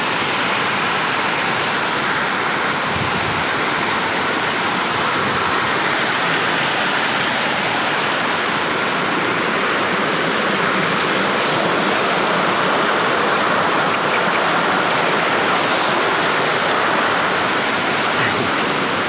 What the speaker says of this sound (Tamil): தண்ணி எப்படி கொட்டுது பார்த்தியா?